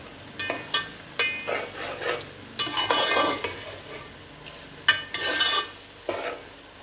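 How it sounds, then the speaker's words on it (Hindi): Onions frying in a pan until browned and crisp for beef degi korma crackle and sizzle, while a spoon stirs them in intermittent scraping bursts up close. "ये बिल्कुल ब्राउन करनी है प्याज, ऐसी कि छुरछुरी हो जाए"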